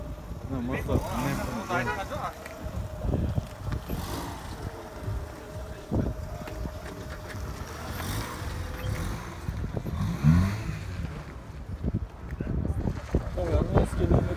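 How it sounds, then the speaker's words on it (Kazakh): A 1992 BMW 5 Series with a 2.0-litre engine runs at a used-car market in Atyrau, a low steady hum mixed with wind and crowd noise while people talk over it. "Мотор."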